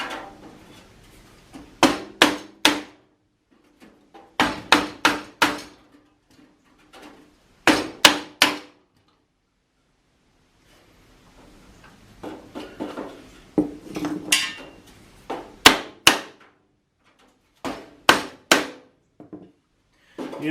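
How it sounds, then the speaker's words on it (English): Wooden blocks are struck with a hammer to straighten the bent grill ribs of a Farmall Super A tractor, producing sharp clanking metallic blows in quick bursts of two to four, separated by short quiet pauses. "I made a couple more blocks of wood that will fit down in these little things here on top of each one of the ribs"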